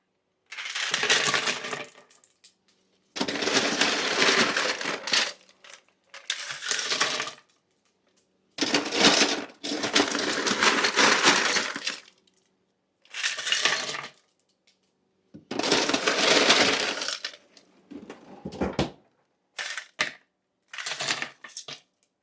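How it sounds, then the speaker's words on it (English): Handfuls of ice are dropped into a pail of turkey brine, giving repeated loud clattering, crunching bursts at close range with short pauses between, about ten scoops in a row. "Throw some ice in here."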